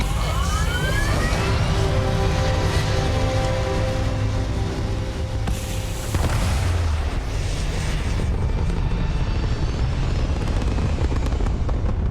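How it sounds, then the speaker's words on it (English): Spaceship retro thrusters firing in the Starfield video game, a loud continuous roaring rumble with deep low-end and sweeping tonal whines, sustained without pause. "Retros firing."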